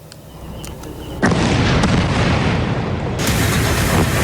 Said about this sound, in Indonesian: Sebuah ledakan yang berasal dari serangan udara Zionis Israel kembali menyiksa warga Gaza, Palestina